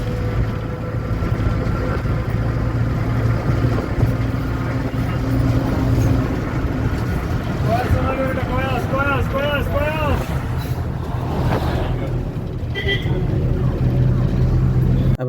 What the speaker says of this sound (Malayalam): നല്ല സ്പീഡിലാണ് ബസ് പോകുന്നത്.